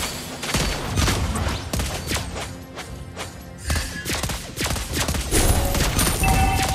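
Rapid bursts of video game gunfire, loud and dense, with repeated shots and impacts layered over continuous game sound effects throughout.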